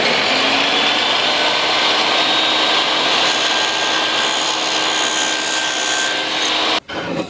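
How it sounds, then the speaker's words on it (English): A table saw rips through wood while cutting a box joint sled, producing a loud, steady whining and rasping drone throughout that drops off abruptly near the end. "So I'm going to go ahead and plug in the table saw, and then we'll get this little section cut."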